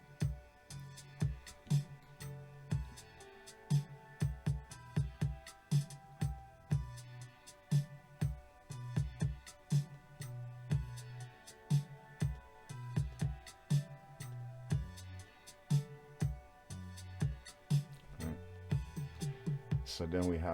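Piano chords sit inside a full slow-tempo song mix with steady beats and other instruments, a layered, rhythmic texture throughout with no talking.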